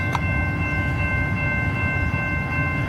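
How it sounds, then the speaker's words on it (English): A freight train rumbles past in Girard, Illinois, a continuous loud low roar with a brief sharp clank near the start and steady tonal ringing over it, no voices. "I was getting set up for this train as fast as I could, and I just missed it."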